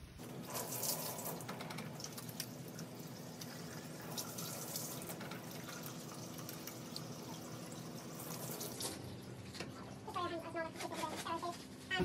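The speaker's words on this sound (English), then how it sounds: "At this step then you'll wash your hands, which are just here." Running water from a sink tap pours steadily as hands are washed before putting on protective gear in a cardiac cath lab, with a person talking over the flow.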